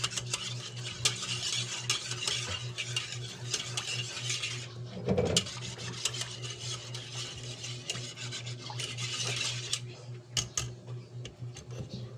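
A utensil stirs food in a pot during outdoor meal preparation, giving repeated scraping and metallic clinks at close range over a constant low hum, with one sharper knock near the middle.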